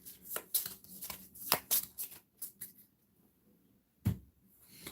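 Playing cards for the Pandemic Reign of Cthulhu board game are shuffled nearby, a quick run of crisp riffling flutters and taps, then a pause and one final slap as the stack settles, with no talk.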